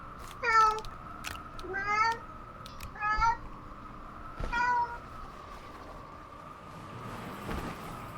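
A pet cat meows close by, four or five distinct rising cries spaced about a second apart, over a steady electronic hum and low background noise.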